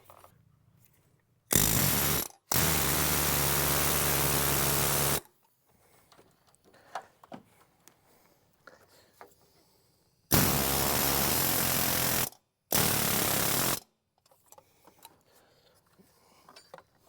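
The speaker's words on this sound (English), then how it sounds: "I picked up a fan clutch wrench set for an impact" An impact wrench with a fan clutch wrench set working on the fan of a Duramax engine in a 2012 GMC 3500, firing in two pairs of loud, sustained rattling bursts of a few seconds each, separated by quiet gaps with small clanks.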